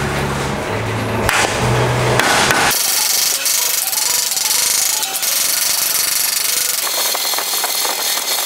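Sharp metallic hammer blows ring out in quick bursts as the edge of a widened VW Beetle fender is knocked down, followed by a steady mechanical whir of a tool running nearby.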